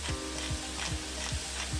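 Steady oil sizzle as dry spices fry, with a soft rhythmic stirring scrape repeating about every quarter second, close and fairly quiet, no voices.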